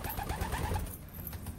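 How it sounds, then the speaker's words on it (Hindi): White bar pigeons kept in a collection in Rohtak coo nearby, a dense, low, continuous burble of cooing with no one talking. "ताकि लोगों को पता लगे कि वाइट बार के कबूतर होते क्या है।"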